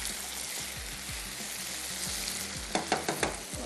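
Tomatoes and onions frying in a pan for cheese burger pasta, a steady close sizzle with a cluster of louder stirring scrapes near the end, and no voices.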